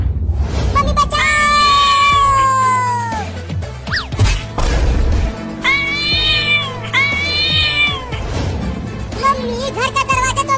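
A cartoon cat lets out several long, loud, wavering meows close by, mixed with thumps and a crash, while a voice speaks intermittently alongside.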